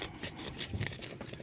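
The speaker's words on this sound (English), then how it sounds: "I'm just using a pruning saw" Close, rapid rasping strokes of a pruning saw cutting through a zelkova root ball, quiet and rhythmic.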